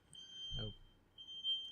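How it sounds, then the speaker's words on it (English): A work truck backs into a parking space outside, its reversing beeper giving a thin, steady high tone that is faint and distant, with a brief voice heard partway through. "work truck who backs into a parking space"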